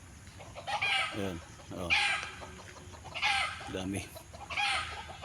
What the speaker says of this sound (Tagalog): May manok na labuyo.